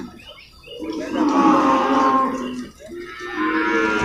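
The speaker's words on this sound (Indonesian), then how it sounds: "sapi pegon ya? Iya pegon." Pegon cattle moo loudly and close up at a livestock market, two long drawn-out lowing calls one after another with a brief dip between them.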